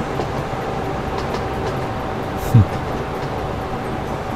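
Train running in the Train Fever video game, a steady low rumble under continuous spoken commentary, with one brief louder thump midway.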